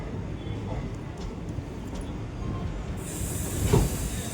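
The Venkatadri superfast express from Kacheguda pulls into platform 1 at Chittoor station with a steady rolling rumble and faint wheel screech. A brief hiss and a louder clunk come near the end, with people talking nearby.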